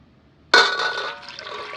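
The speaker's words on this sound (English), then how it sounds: "I'm going to go ahead and pour the water in there so I can go ahead and use the water." Water poured into glass canning jars holding blanched potatoes for hot-pack pressure canning, starting abruptly after a quiet moment as a bright, close splashing gush that gradually settles into a steadier trickling fill.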